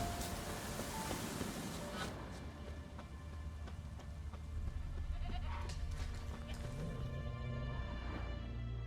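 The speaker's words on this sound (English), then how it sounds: "Can't smell Eskel, but there is the goat." Goat bleating in The Witcher 3 video game, a few short calls against a steady rain-like ambient wash of the game's outdoor soundscape, with no talk over it.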